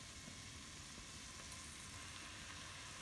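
Garlic and onions sizzle in a pot for lentil soup, a steady, even frying hiss that is close and quiet and runs unbroken with no voices.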